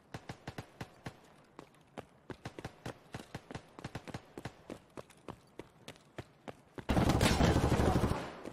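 Escape From Tarkov gunfire from a scav on the Interchange map, a long run of evenly spaced sharp single shots at a steady rhythm, ending in a loud, sustained burst of heavy noise.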